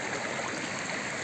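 Water flowing steadily with sand during gold panning, a close, continuous rushing trickle like a small stream, with no pauses or voices.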